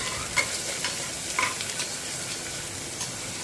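Chopped onions sautéing in oil in a pan give a steady, close sizzle with a few soft stirring scrapes, with no talking.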